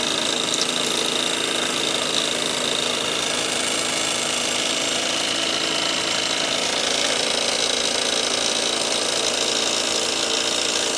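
Model steam engine running on steam from a Kingdon boiler, a steady continuous mechanical chuff and whir with no pauses, close and fairly loud.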